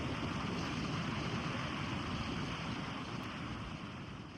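Gullfoss waterfall in Iceland gives off a steady broadband roar, a dense unbroken rush of water at moderate distance that fades slightly near the end, with no voices.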